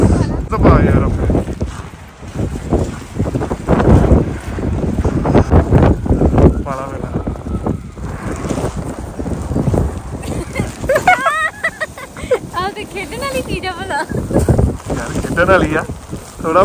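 Strong wind blows hard across the microphone outdoors in snowy weather, a loud, continuous, gusting roar while people talk through much of it.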